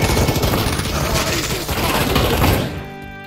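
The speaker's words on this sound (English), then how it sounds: "Well, I just got shot, Detective." Dense, continuous gunfire from the Pavlov video game, a loud chaotic burst of rapid shots and impacts that cuts off abruptly near the end, with a faint voice underneath.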